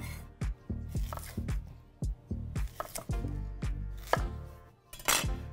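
Knife cutting onions on a cutting board for caramelizing, a string of close, crisp chops and taps at an uneven pace, with some skin-peeling rustle between them and no talking.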